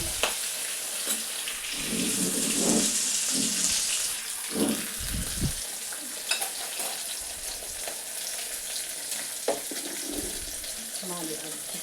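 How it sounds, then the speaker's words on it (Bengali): Fish frying in a pan in a home kitchen makes a continuous hissing sizzle, with scattered clatter and splashy bursts from turning or stirring throughout. "আমি মাছ ভাজছি।"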